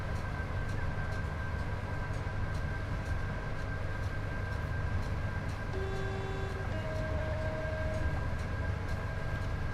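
A train runs through snow in a train simulator game, a steady low rumble with faint humming tones throughout and a brief brighter tone near the middle.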